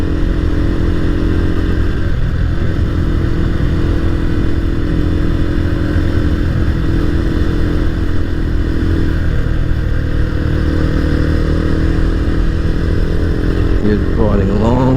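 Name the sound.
motorcycle engine while riding on the road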